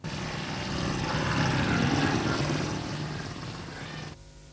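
A propeller airplane carrying mail drones steadily overhead, a loud continuous engine roar that swells slightly and then cuts off abruptly near the end.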